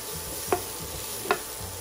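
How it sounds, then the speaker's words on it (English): Chopped onion sizzles in a frying pan in a home kitchen while an asparagus and shrimp dish is cooked. A steady, low hiss runs throughout, with two sharp clinks of stirring about a second apart. "we can start on putting on the onion. Did you hear the sizzling, guys?"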